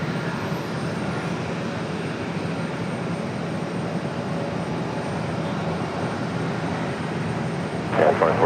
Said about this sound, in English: Aeromexico coming up that E190 back to Mexico City